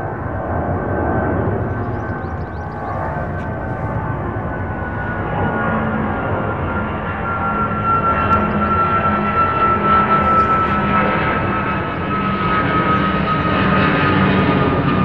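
A Qatar Airways jet departs Heathrow's runway 09R under full takeoff thrust, a loud, continuous engine roar with a steady whine that holds and swells slightly across the whole stretch, with no talk over it.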